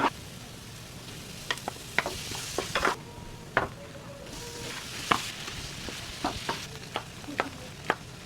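Aromatics sautéing in a pan for a Filipino soup: a steady soft sizzle under scattered sharp clinks and scrapes of a utensil stirring against the pan, fairly close and moderately quiet.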